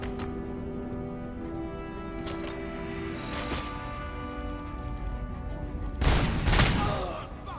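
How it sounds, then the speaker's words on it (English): Gunfire aimed at the player in RoboCop: Rogue City comes as bursts of sharp shots and impacts over a humming backdrop, growing loudest in a heavy volley near the end. "Someone shooting at me?"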